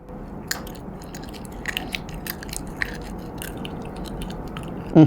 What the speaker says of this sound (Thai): จะลองกัดหนังควายจีแบบแกะมาจากหอยนะ